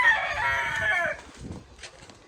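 A rooster crows loudly and close by, one long drawn-out call lasting about a second, followed by quieter farmyard noise.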